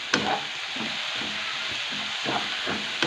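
Cauliflower sabzi with fenugreek and coriander being stir-fried, a close, even sizzle broken by several soft scraping stirs of a spoon.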